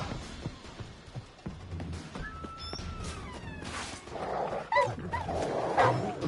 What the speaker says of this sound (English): I know the dogs are there. I'm ignoring the dogs.